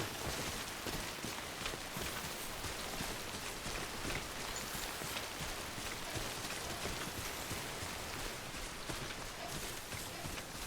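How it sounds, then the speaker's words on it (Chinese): Rain falling in the video game Death Stranding, a dense continuous patter of drops on the ground, loud and steady throughout without a break, with no voices over it. "一下下雨又下雪了"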